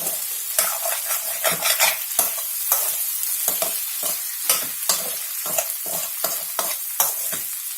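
Potato bhaji frying in a pan, stirred with a spoon that scrapes and clatters in a quick, irregular rhythm over a loud, constant sizzle, heard close with no voices.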